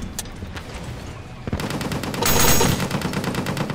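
Anti-tank guns fire in the tank game Total Tank Simulator, a rapid series of sharp bursts that swell into a dense loud volley near the end, with no one talking.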